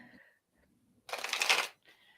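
A deck of tarot cards gets a brief, brisk riffle shuffle, close and crisp, lasting about half a second between quiet moments with faint sounds before and after.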